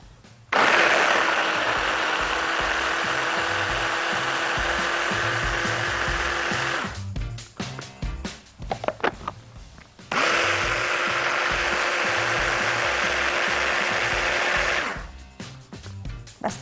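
An electric blender whirs loudly, blending an olive dip with added olive oil in two long steady bursts separated by a brief pause, with no talking.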